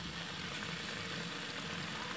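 Oxtail sizzles in a pan as it browns, giving a steady, even hiss of frying with soft crackle, close and continuous, with no voices over it.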